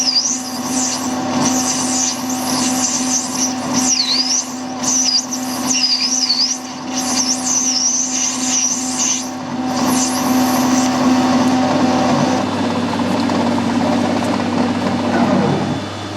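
Hard SNNC 219 P2 steel being machined on a metal-cutting tool, a steady continuous cutting whine with a constant hum and shifting high tones, fairly loud and close, with no talking.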